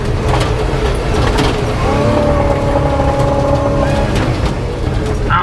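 A 1986 Chevrolet K30 dually truck spinning four-wheel drive donuts roars loudly and continuously up close, its engine note rising and falling with a whining pitch through the middle as the revs shift.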